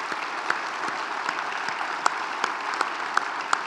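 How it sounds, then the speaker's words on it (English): A room full of people at a transportation summit claps for road crews after a storm, steady applause with a few sharper individual claps standing out. "I think they deserve a big round of applause for their work."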